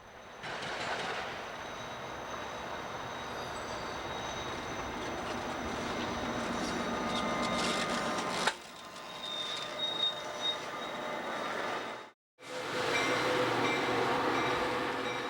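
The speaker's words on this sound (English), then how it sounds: "The engine and the baggage car is cut off from the little train, and they pull north across the diamond" Amtrak F40 locomotive with a single baggage car pulling north across a rail diamond at Auburndale, Florida, a steady rumbling roll with squealing wheels and clicking over the crossing, easing briefly before the rumble resumes.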